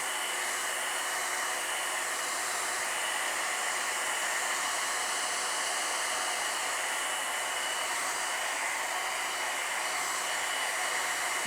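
A hair dryer blows steadily to dry a beginner's watercolor painting, a loud continuous airy whoosh that holds the same level throughout with no voices.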